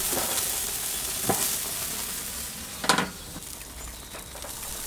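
Lamb koftas sizzling on a barbecue grill, giving a continuous close frying hiss with a couple of brief sharper crackles or flare-up bursts, no talking.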